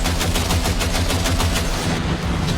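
Rapid automatic gunfire in the video game Cyberpunk, a loud, continuous burst of closely spaced shots that runs almost without pause before briefly easing near the end.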